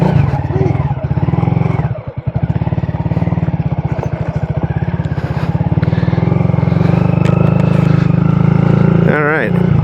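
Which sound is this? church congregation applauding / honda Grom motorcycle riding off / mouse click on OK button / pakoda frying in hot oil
honda Grom motorcycle riding off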